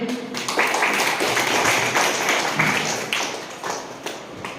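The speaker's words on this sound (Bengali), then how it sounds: "সবাই একটু করতালি দেই" Church audience at a Bengali sermon clapping together, a dense burst of applause that builds quickly and then fades away over a few seconds.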